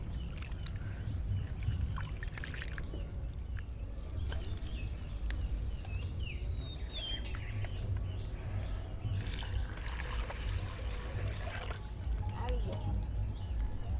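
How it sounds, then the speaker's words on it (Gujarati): Mixed dal being washed by hand in water in a clay pot, soft continuous sloshing and trickling with small splashes, fairly quiet and close, while someone talks over it throughout. "દાળને આ રીતે બરાબર ધોઈ લઈશું"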